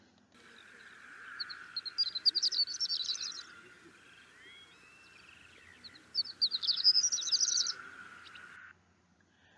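A Mississippi open-country bird calls in two drawn-out phrases of rising, buzzy trills over a steady high drone, fairly faint, with someone speaking briefly near the end.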